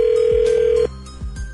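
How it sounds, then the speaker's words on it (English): An outgoing telephone call rings once, a steady electronic ringback tone lasting under a second before cutting off, followed by faint clicks on the line. "then we'll call up Tyler when we come back next"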